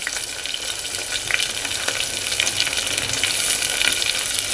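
Finely chopped tomatoes frying with browned onions in a pan, a loud continuous close-up sizzle with faint stirring ticks throughout and no speech.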